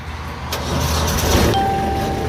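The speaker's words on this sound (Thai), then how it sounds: "เดี๋ยวเราเรามาสตาร์ทเครื่องยนต์กันนะฮะ" A 2012 Kubota B2420 compact tractor's diesel engine starting, a brief cranking whir that catches into a steady running rumble, near and fairly loud, with no talk.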